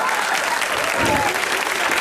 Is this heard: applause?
yes